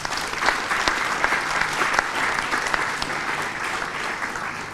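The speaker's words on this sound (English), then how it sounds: "one more round of applause, please" An audience at the Formula Student 2024 business plan presentation finals gives a round of applause, many hands clapping in a sustained, fairly even patter with a few sharper individual claps standing out.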